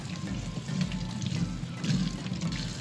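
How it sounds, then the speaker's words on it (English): Running tap water pours steadily over a humidifier filter from a Dyson AM10 being rinsed in a sink, a continuous close splashing wash with small surges and no voices. "run them under water"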